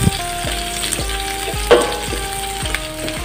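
Chopped white onion and browned garlic frying in a pan, a loud constant sizzle punctuated by regular spatula scrapes and one sharper clatter.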